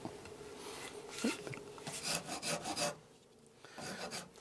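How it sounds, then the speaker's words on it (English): A Shinto rasp shaves a curved wooden axe handle in a series of close, rough filing strokes with brief pauses between them, no talking. "if you don't have a Shinto rasp, get yourself one of these"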